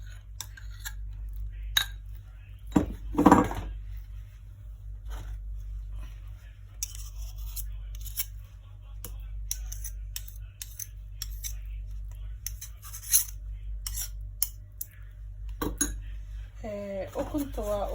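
Three eggs and butter are worked together in a bowl, with scattered clinks and scrapes of utensil against the dish over a low steady hum and no clear talking.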